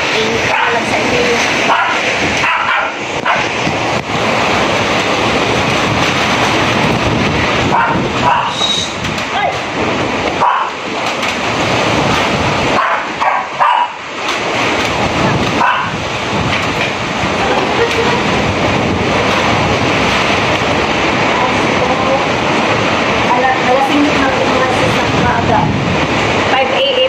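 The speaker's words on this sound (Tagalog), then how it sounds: "Binabayo tayo ng malakas na hangin" Loud, sustained roaring wind from Typhoon Opong at Signal No. 4 in Masbate City, with gusting surges and a few brief lulls, dense and close throughout.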